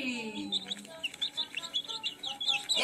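A chicken gives a run of quick, high, thin chirps and peeps in a quiet setting.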